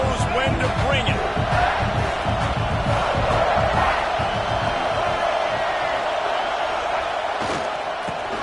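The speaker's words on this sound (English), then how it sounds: "This crowd knows when to bring it." A stadium crowd in a football video game roars steadily throughout, a dense, continuous wash of cheering that holds at a loud level and eases slightly near the end.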